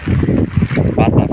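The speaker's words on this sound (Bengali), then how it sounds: "বাতাসটা বেশি, বৃষ্টিটা একটু কম।" Strong wind during rain buffets close by in continuous rumbling gusts, swelling and dipping over the short stretch.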